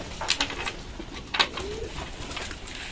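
Pigeons coo and flutter softly in a rooftop pigeon loft, several faint calls and wing rustles scattered over a steady background noise, with no talking.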